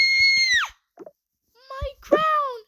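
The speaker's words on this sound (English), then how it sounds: "And then you scream" A child lets out a loud, high sustained scream that falls off, then a short gasp and a second shrill scream, acted out close up.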